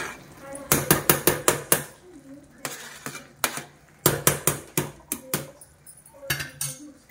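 A metal spoon scrapes and knocks against a pot while rice biryani is stirred, giving bursts of sharp clinks in quick groups with short quiet gaps.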